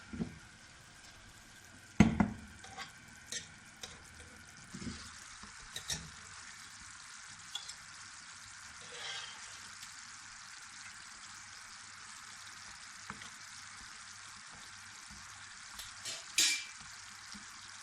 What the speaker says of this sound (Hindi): यहाँ पे देखें काफ़ी जलेबियाँ भी साथ साथ फ्राई हो रही हैं